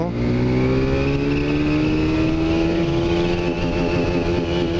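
Suzuki SV650 motorcycle fitted with an SP Tadao muffler, revved while standing, a loud, close, sustained high-rpm engine note rising steadily in pitch with a rough, buzzing exhaust tone.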